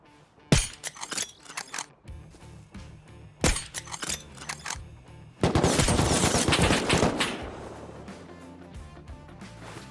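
AK rifle gunfire in the survival video game Rust: a few sharp single shots, then a dense, loud burst of automatic fire that trails off into softer rattling.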